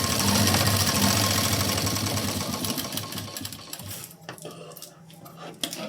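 A sewing machine stitching a blouse runs in a fast, loud, continuous whir for several seconds, then slows and stops, leaving a few faint clicks.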